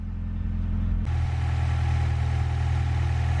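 A fifth-generation Honda Prelude BB6 engine settles into a steady idle just after starting, following a brief starter crank, a close, even hum with a faint clatter.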